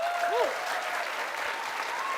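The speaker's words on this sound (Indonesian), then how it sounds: "Tepuk tangan sekali lagi boleh buat Rocky" Studio audience applause for Rocky on an Indonesian comedy variety show, a steady dense wash of clapping with a brief whistle-like tone early and faint voices underneath.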